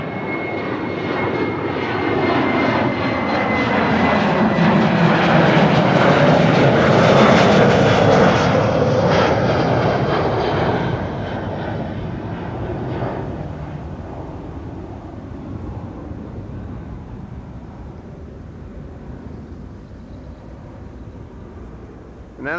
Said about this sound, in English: Diverging departures in progress. No time to waste. A KLM 737 over here too.